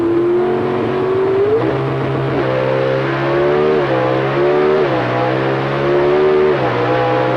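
Pro Stock drag racing cars with 500 cubic inch engines launch at about 8,500 RPM, giving a loud, sustained engine roar that rises repeatedly in pitch as they shift gears.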